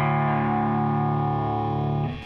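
A distorted electric guitar in drop D tuning holds a low, sustained chord with heavy effects and shimmer, ringing steadily before cutting off near the end.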